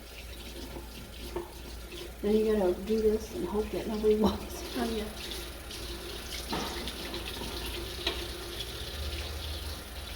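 Hot water running from a tap into a sink for hand washing, a steady close splashing stream that continues under a person talking.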